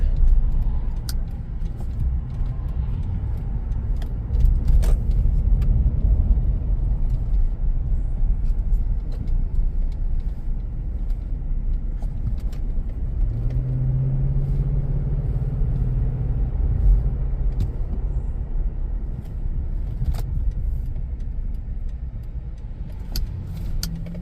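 A Toyota Land Cruiser 200 cruises along a road, giving a continuous low engine and tyre rumble from inside the cabin, steady throughout with a few faint clicks and a brief hum midway.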